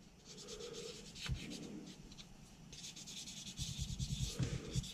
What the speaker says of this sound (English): I'm just sanding this back